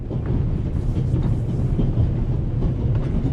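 A train rumbles steadily along the rails in the game The Raven, a dense, low, continuous roll with faint clatter and no speech.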